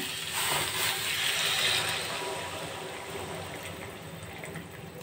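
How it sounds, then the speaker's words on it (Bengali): Hot water poured into a simmering chickpea, potato and pumpkin curry in a home kitchen, a steady splashing pour that swells briefly then settles into a softer liquid hiss. "পরিমাণ মতো গরম জল দিয়ে দিলাম"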